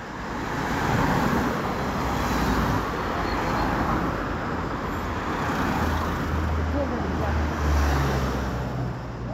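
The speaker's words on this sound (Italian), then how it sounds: "Il problema saranno le macchine, il rumore delle macchine." Steady road noise from cars and heavier vehicles passing along a state road near Venafro, a continuous loud roar with no gaps, heard from the roadside.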